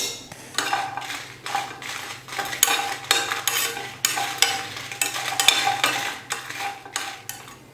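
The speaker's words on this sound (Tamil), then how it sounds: "5 வரமிளகா, முந்திரி ஒரு 9, 2 சேர்த்து நல்லா வறுத்துக்கலாம்." Dried red chillies and cashews being roasted in a small kadai, with repeated scraping and stirring strokes of a spoon against the metal pan over a faint sizzle and a low steady hum, close and rhythmic.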